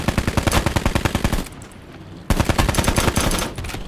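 Rapid automatic gunfire from a video game plays in loud dense bursts, stops for about a second, then resumes at full volume.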